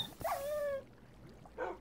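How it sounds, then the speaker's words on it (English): Tamed dogs in the Minecraft video game whimper in two short, high, thin whines: a longer drawn-out one near the start and a brief one near the end, with quiet between. "My dogs just pushed two other dogs into lava."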